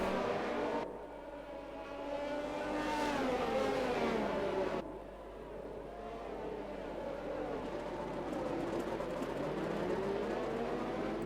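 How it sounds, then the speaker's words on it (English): A race car engine hums at a low, steady idle in the distance during a sim race round at Baku, with a brief rise in intensity partway through. "sounds like the car's just idling"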